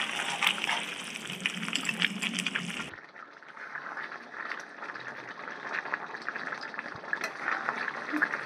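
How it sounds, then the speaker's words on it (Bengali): Chicken curry gravy with potatoes bubbling and simmering in a pot on the stove, a steady soft gurgling boil heard close and fairly quiet, with no talk. "দেখো মাংসের ঝোলটা আমার ফুটে উঠেছে"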